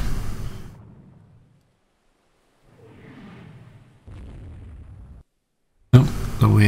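Naval guns trade fire in Rule the Waves 2: a heavy boom fades out, faint rumbling shots follow in the distance, then a loud new blast hits near the end, with no talk.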